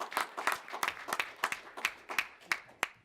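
Audience members at a board meeting applaud, a small group's scattered claps forming a brief, fairly quiet round in an indoor room.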